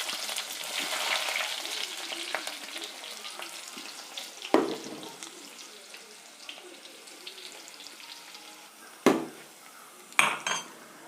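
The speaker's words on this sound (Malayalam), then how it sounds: "കടുക് പൊട്ടി വരുമ്പോഴത്തേക്ക് ചെറുതായിട്ട് കട്ട് ചെയ്ത് 2-3 ചെറിയ ഉള്ളി." Mustard seeds splutter in hot oil as two or three small chopped shallots fry in a pan, a continuous sizzle broken by a few loud metallic clanks of utensil against pan.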